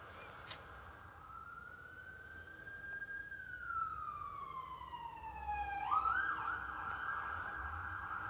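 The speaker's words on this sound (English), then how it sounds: "There's an ambulance going by." An ambulance siren passes by outdoors, its wailing tone rising and sweeping down in pitch as it goes, growing louder and more insistent near the end over a steady background hum.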